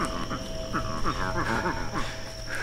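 A toad croaking in the video game Dead Island, a rapid series of low, bubbly croaks in quick rhythmic pulses over steady insect-like ambience, fairly close and moderately loud.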